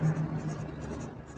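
A pen scratches steadily across paper as an equation is written out by hand, a soft continuous scribbling close by with slight rhythmic strokes.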